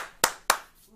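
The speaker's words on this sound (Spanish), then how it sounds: "vamos a dar un aplauso porque estamos acá en el estudio" Two sharp, distinct hand claps in a studio, evenly spaced and close, with quiet room tone between them.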